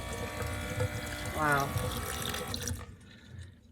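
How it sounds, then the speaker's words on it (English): Water runs from a sink tap straight down a funnel into a gray water bucket at a tiny cabin, a steady splashing trickle that cuts off near the end, with a brief exclamation over it. "Seems to be running in the gray water bucket really good."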